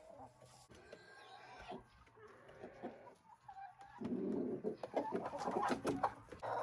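Chickens wander a yard beside an open run and coop, clucking softly and intermittently, growing busier and louder toward the end amid other faint bird calls.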